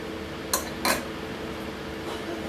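A spoon clinks twice against a bowl while honey and black pepper are mixed, two crisp close taps over a quiet room.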